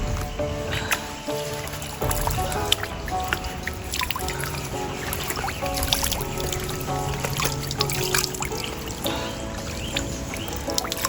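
Cold, clear stream water trickles and splashes continuously over rocks on a Mam Tor hike in the Peak District, UK, a close, steady burble with bright liquid detail.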